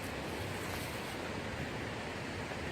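Steady rushing water from a canyon waterfall and stream in the Kaz Mountains, Turkey: a dense broadband roar, even and unbroken with no voices.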